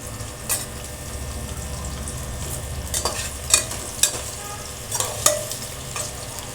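Onion, ginger, garlic, curry leaves and spices sauté in a pan for masala khichdi, with a low steady sizzle broken by soft, intermittent scrapes and clinks of a stirring spoon.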